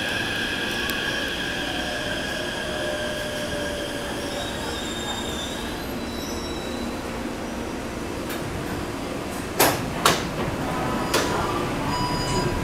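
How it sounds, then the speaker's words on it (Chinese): Taipei Metro C371 train on the Xiaobitan branch line, running steadily with a continuous rumble, high wheel squeal and hum, a few sharp clanks near the end. "这一台列车往小碧潭"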